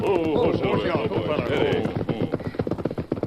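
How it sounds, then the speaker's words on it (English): Horses' hooves clop in a quick rhythmic patter on a hillside trail in an old western radio drama, rising clearly at the end after a stretch where the hoofbeats run under other sound. "The Lone Ranger, Tonto, and Dan Reed, riding north toward the Bighorn country, reined up their horses on a hillside trail."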